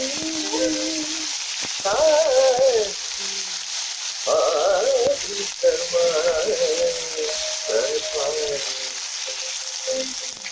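Ginger garlic paste and turmeric sizzle steadily in a hot pan, a constant frying hiss with intermittent stirring scrapes, while someone talks over it.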